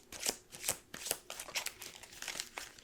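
Playing cards shuffled up close in a casino-style game setting, several quick riffling bursts of crisp papery flutter in a steady rhythm, soft and intimate with no talking.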